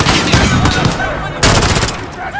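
Rapid automatic gunfire from the video game Call of Duty: Modern Warfare 2019, a close, loud burst of shots followed after a brief dip by another fierce burst.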